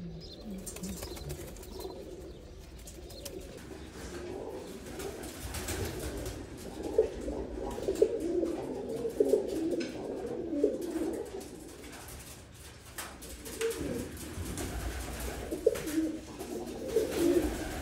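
Pigeons coo in a loft, low repeated throaty calls overlapping near and steady, with occasional wing flaps and shuffling among the birds.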